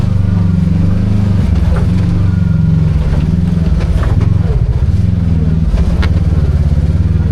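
A Kawasaki KRX 1000 side-by-side fitted with a clutch kit revs under throttle, a loud, steady, close engine drone with slight surges throughout.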